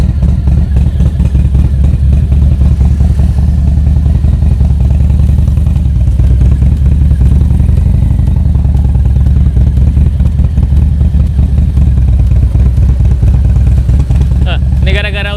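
A modified Harley-Davidson Street Bob motorcycle with a staged tune runs loud and steady throughout, its deep engine rumble surging at low speed, while a person talks over it.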